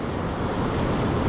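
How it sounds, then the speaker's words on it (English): Rough surf on a North Carolina beach, a steady, dense roar of breaking waves mixed with wind buffeting the microphone, continuous and loud with no speech. "there's some pretty decent sized waves out there"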